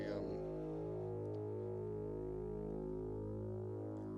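A steady electronic tone from a modular synthesizer oscillator, driven by bank B of a Keen Association Quad Transevent Generator 282e, with rich, buzzing harmonics and slowly shifting phasing, sustained throughout at moderate level with no voices.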